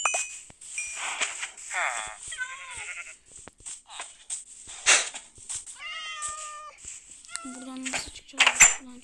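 Cats in Minecraft meow repeatedly in short, close game sounds of varying pitch, with a voice speaking between and over them.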